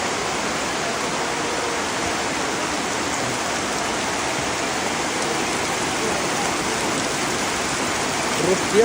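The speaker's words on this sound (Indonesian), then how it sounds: "derasnya lagi hujan guys." Heavy rain pours down steadily, a dense, constant roar of water hitting surfaces that fills the whole clip without letup.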